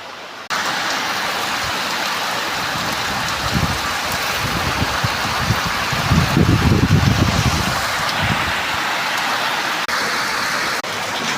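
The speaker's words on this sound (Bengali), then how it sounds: "দেখো বন্ধুরা, আমাদের এখানে বৃষ্টি কেমন হচ্ছে, সমানে বৃষ্টি হচ্ছে।" Steady monsoon rain falls heavily in late Ashadh, a loud, unbroken wash of patter with a brief rumbling swell partway through, and no voices.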